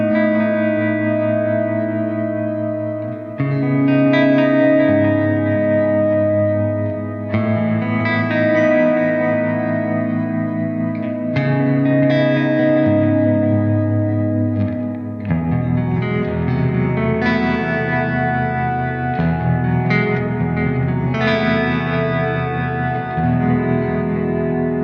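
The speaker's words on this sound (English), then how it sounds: "This next patch is called Ambient Echoes. Really nice, open ambient sound, great fun to play around with." Electric guitar played through a Blackstar IDX amp on an ambient echo patch: sustained chords and picked notes swell with chorus, slight distortion and trailing repeats, changing every few seconds in a loud, continuous, spacious wash with no talking.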